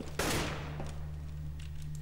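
Gunfire in the game CS:GO: one sharp, loud shot rings out and decays, with a few fainter shots after it, all over a steady low electrical hum.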